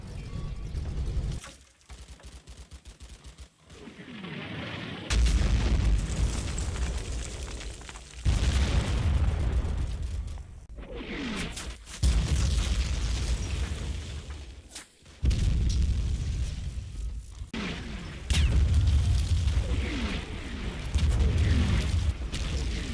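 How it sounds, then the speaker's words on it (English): Mortar strike explosions in the Combat Mission Fortress Italy war game come as repeated heavy booms and bursts over roughly twenty seconds, loud and layered with rumbling gaps between impacts, with no voices. "Whilst the FO ranges in a mortar strike"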